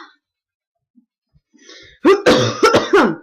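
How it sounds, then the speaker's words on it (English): A short burst of harsh, close coughing, several rapid coughs in a row after a near-silent start. "If you hear me coughing again"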